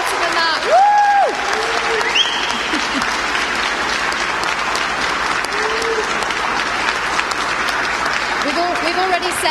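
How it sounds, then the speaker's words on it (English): A crowd at an esports racing grand final applauds the winners with sustained clapping and a few cheers. A host's voice carries over the applause at moments. "Can we just have one final round of applause for our winners?"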